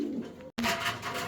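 A pair of Kagoji fancy pigeons coo close by in a farm loft, with soft throaty calls broken by a brief silence before the cooing resumes.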